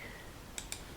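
Two quick, faint clicks of a computer mouse sound in close succession as a double-click in mapping software, over near silence.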